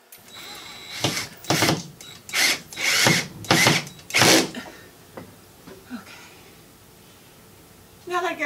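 Power drill driving short wood screws into a board to attach a bracket for a kiln vent in a home studio, about six loud whirring bursts of roughly half a second each, followed by quieter handling and a final short burst.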